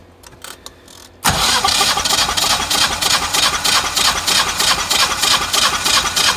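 Car engine cranking and catching during a compression test on an engine overfilled with oil, a few faint clicks and then a loud, steady rough churn that runs on with a pulsing rhythm, no voices.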